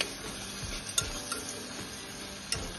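Fresh green peas sauté in a pan while a spoon stirs them, producing a soft sizzle broken by several light scraping clicks against the pan.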